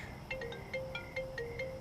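A phone rings in a repeating electronic trill, several bursts at an even pace, fairly quiet over a low background hum.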